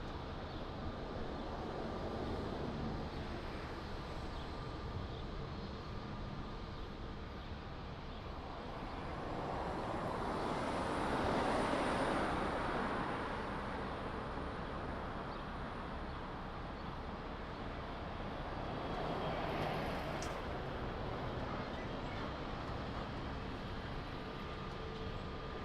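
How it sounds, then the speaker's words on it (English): A Boeing 777 airliner on its takeoff roll at Lisbon Airport gives a broad, steady roar heard from a distance that swells for a few seconds, eases off, then builds again. "Wow, long takeoff roll."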